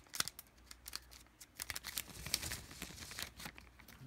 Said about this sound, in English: Can't risk using these pull tabs, don't want to bend the cards, so using scissors for every pack.